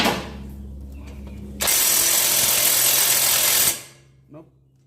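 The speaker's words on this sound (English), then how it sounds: "Let's see if we get this caliper frame loose just with the impact." An impact wrench on the brake caliper frame of a Jeep Renegade 1.4 T fires once in a loud, close burst of about two seconds, breaking from a low mechanical hum and fading back afterward.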